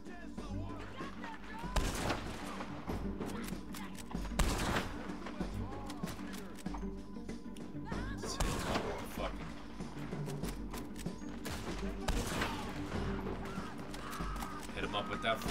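Gunfire in Red Dead Redemption 2, repeated loud shots and volleys ringing out amid game noise and music, with someone talking over parts of the action.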